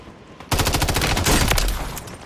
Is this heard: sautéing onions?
no